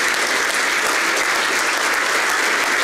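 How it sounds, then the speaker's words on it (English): Loud, dense applause from a large audience at a university welcome-back gathering, a continuous roar of clapping that fills the whole moment without pause. "Everybody give yourselves a round of applause"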